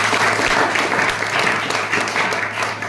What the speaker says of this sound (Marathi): टाळ्या वाजवा त्या मुलीसाठी